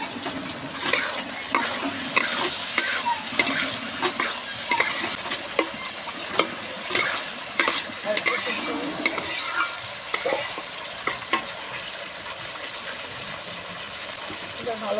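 Pangas fish curry with young snake gourd and coriander-cumin spices is sautéed in oil. A spatula scrapes the pan in a quick, repeated rhythm over a constant sizzle for the whole stretch.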